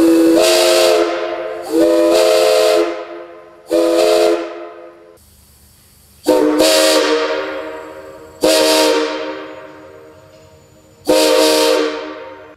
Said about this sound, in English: the whistles were tested on air to make sure they both performed as predicted